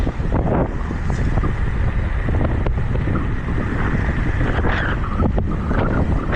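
Steady roaring headwind buffeting the microphone while riding an Ausom Gosoul 2 at around 42 km/h, loud and continuous with gusty surges throughout, no talk.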